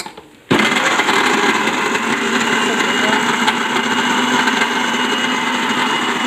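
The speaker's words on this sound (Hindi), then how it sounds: "अब इन सब को हम पीस लेंगे।" A mixer grinder blends salt, soy sauce, garlic and vinegar for homemade shawarma sauce, starting after a brief pause and then running as a loud, steady whirring grind with no voices.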